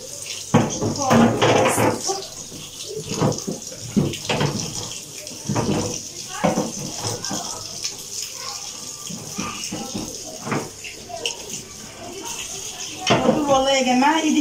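Dishes and pots being washed at a home kitchen sink, with running water and scattered clinks of pans and utensils throughout, under someone talking over it.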